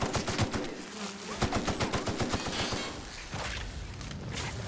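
A fire-shooting weapon in The Outer Worlds video game, firing rapid rhythmic bursts that pulse like a buzzing machine gun, loud and close, easing into a rougher steady roar toward the end.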